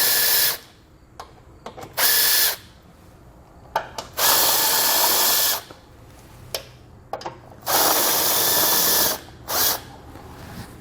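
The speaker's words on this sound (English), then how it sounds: "We're going to remove those with a 10mm socket." A power tool spins a 10mm socket to remove bolts from a 2020 Jeep during a base plate install, in several short bursts with quiet pauses between them, close and alone.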